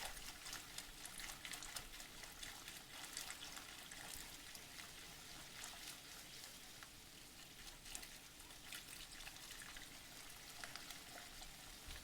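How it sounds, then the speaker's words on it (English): Cornstarch slurry being poured into hot teriyaki sauce while it is continuously stirred, a faint steady wet bubbling and sizzling hiss with no talking. "now we're going to pour this right into the teriyaki sauce while continuously mixing"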